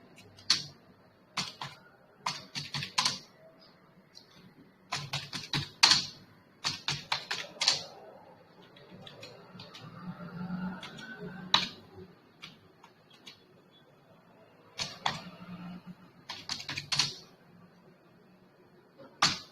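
Numbers are typed on a computer keyboard in short irregular bursts of crisp clicking keystrokes, close and clear with pauses between runs.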